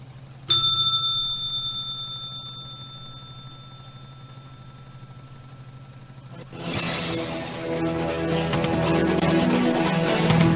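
A single bright bell strike rings out and sustains as a steady tone for several seconds, then a louder wash of music or broadband sound takes over.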